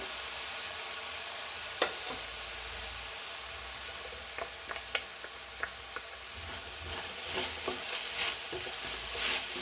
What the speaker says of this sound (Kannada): ಇವಾಗೆಲ್ಲ ಕೈ ಆಡಬೇಕು, ಕ್ಲೀನಾಗಿ ಕೈ ಆಡೋಣ